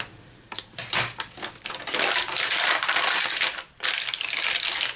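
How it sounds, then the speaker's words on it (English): Vellum paper being cut in half at a craft desk for journal envelopes, giving a crisp, continuous crunchy slicing sound with a few sharper snips, close and fairly loud with no talking. "I'm just going to cut it in half."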